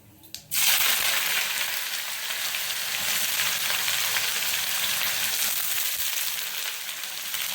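Chopped onions with cumin and a little salt dropped into hot oil, a sudden loud sizzle bursting in after a short quiet start, then a sustained crackling fry with occasional stirring.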